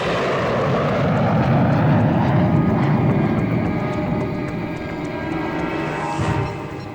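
Airplane in flight during a scene from a dubbed Telugu action film, a steady loud engine roar that holds for several seconds, swelling slightly then easing, with no talk.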